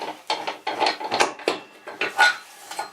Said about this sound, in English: Basically, if you want to take it off, you just screw it out.